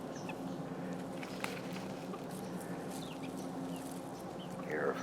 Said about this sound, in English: Here are her chickens.